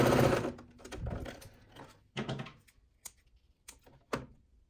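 A sewing machine stitching fabric runs in a steady, loud burst at the start, then gives several short, separate stitching spurts with brief pauses between them.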